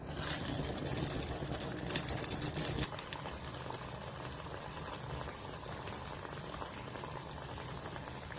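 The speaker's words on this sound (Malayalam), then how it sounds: "ഓയിൽ ചൂടായിട്ടുണ്ട് കേട്ടോ അതിലേക്ക് ഇട്ട് കൊടുക്കാം" Tapioca vada batter drops into hot oil and fries with a loud bubbling sizzle for about three seconds, then settles into a quieter, steady frying hiss.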